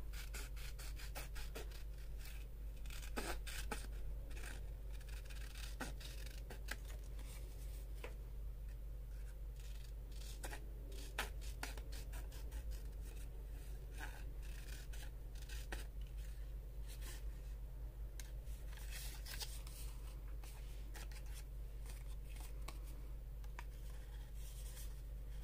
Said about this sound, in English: I'm gonna cut around this instead.